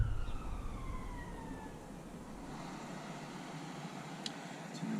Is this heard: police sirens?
yes